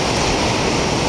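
Ocean surf breaking near the south breakwater and tetrapods at Sendai Shinko port, a steady broad wash of waves with wind noise, loud and continuous.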